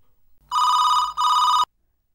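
A landline telephone rings in two long electronic bursts with a brief gap between them, clear and close, with no voices.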